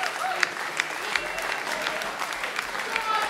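An audience at a closing ceremony of a music festival claps steadily, a lively dense applause with a few sharp individual claps and faint voices mixed in.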